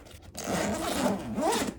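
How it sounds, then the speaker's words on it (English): A zipper is pulled open along the front pouch of a Veto Pro Pac Tech Pac tool backpack, one steady close rasp lasting just over a second. "Front side of the backpack opens up pretty nicely like this."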